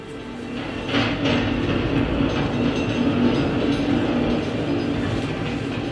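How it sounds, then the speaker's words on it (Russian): A tram rolls past nearby, its wheels rumbling and clacking on the rails in a loud, steady run that swells in the middle and eases slightly toward the end. "Пропустил трамвай."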